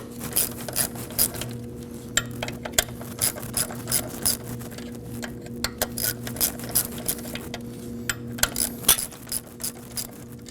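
Hand ratchet clicking in quick bursts while loosening the high pressure fuel pump bolts on a 2011-2016 Kia Optima engine. The sharp, close clicks come in uneven runs over a low steady hum, with no talking.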